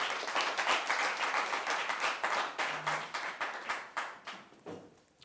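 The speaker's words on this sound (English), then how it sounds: "let's give a warm round of applause for Clay Hard out of the Collegiate School" A high school audience gives a warm round of applause for a winner, many hands clapping densely at first, then thinning into separate slaps that fade away.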